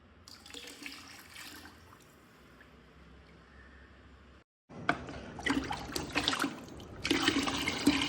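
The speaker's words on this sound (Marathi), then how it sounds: "त्याचे 5 पट मी इथे पाणी घेतलेलं आहे आणि ते छान असं मिक्स करायचं" Water pours into a container to dilute fermented organic garden fertiliser, a trickling pour and stirring splashes at close range, quieter at first, then louder bursts of splashing and sloshing after a brief gap.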